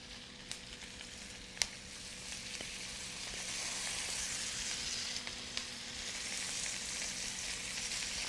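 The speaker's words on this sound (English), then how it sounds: "I'm going to let this saute for another few minutes until the tomatoes cook down." Onions, tomatoes and garlic sauté in a pan with a soft, even sizzle that grows slightly denser over time. A few faint taps of a utensil sound against it, and there is no speech.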